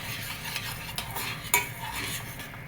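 Syrup for banana halwa stirred in a pan with a metal spoon, producing quick scraping strokes and a couple of clinks against the pan's side, with a faint sizzle underneath.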